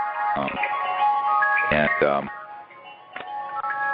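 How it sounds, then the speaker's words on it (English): An incoming-call phone ringtone plays a bright, tinkling ice-cream-truck-style melody in short bursts of notes, heard during a conversation while someone talks over it. "That's a incoming call I've just dispatched with."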